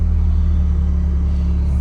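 A VAZ 2104 car with a turbocharged engine rumbles steadily and loudly up close, with a deep, even hum and no talking.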